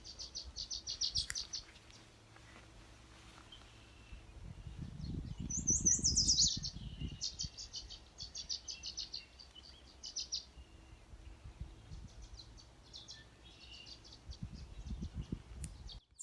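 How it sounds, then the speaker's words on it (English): Violet-green swallows give brief, scattered chattering chirps in the Mono Basin on a sunny day, mixed with other birds singing in the background and occasional low rumbles of wind. "So we have some violet green swallows swooping in front of the camera. They make that little chattering sound."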